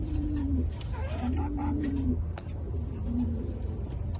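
Racing pigeons coo inside a pigeon loft: a few low, rolling coos repeat up close over a soft rustle of birds moving about.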